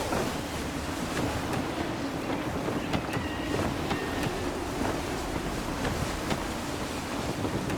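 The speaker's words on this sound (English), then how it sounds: "Gusty winds can be difficult to manage." Gusty wind sweeps across a sailing ship at sea in Assassin's Creed III, a continuous rushing roar mixed with water wash and creaking, steady and fairly loud with no talk.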